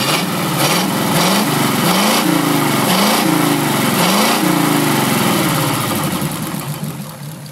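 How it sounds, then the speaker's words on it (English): A flathead engine idles loudly and steadily with a rough, loping pulse, its valve train clattering over the exhaust note throughout, then fading slightly toward the end. "you can hear the valve noise pretty good on the video"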